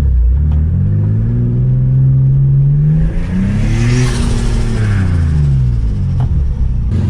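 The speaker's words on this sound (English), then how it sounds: "the turbo is spooling a lot sooner since it's up closer" Infiniti G35 with a budget mid-mount turbo accelerating hard, engine note rising and falling through revs as boost builds, loud and close from inside the car, with a steady rumbling drone and no talking.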